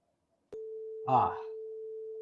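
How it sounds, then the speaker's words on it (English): A steady, pure electronic sine wave test tone played from Ableton starts abruptly and holds constant, with a brief burst of speech-like sound passing over it midway. "It's a beautiful test tone, simple sine wave sound."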